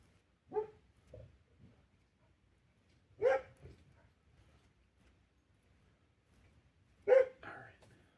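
A young dog barks three times at a distance, single yelps spaced a few seconds apart over an otherwise quiet background.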